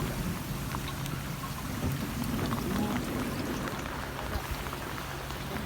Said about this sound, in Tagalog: Uwan.